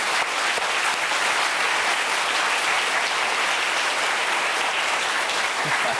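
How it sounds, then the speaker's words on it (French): A television studio audience applauds on a French variety show, a dense, steady wash of many hands clapping at full volume throughout, close and continuous, with no voices on top. "Présentez-nous Laurent Balesta, qu'on applaudit tout de suite."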